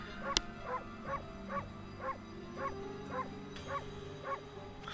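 Steady, evenly spaced barks from a dog in the Okami video game, about nine short yips in a regular rhythm, moderately quiet over soft background game music.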